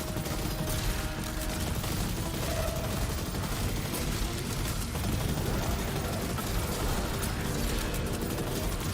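Continuous gunfire from players shooting at a boss during Destiny's King's Fall raid, a dense wash of rapid shots and game effects that stays steady throughout without clear breaks.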